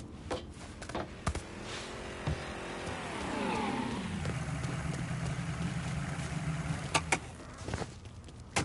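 A car engine warming up in the video game Mafia III, idling then rising into a swelling drone that settles to a steady low rumble, with scattered sharp clicks and knocks around it.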